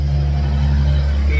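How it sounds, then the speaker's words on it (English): Heavy delivery trucks rumble past with engines gunned, a loud steady low-pitched roar that holds across the whole moment, with a voice talking over it. "These damn trucks quit being rude and gunning their engines and driving by when I'm trying to make a fucking video."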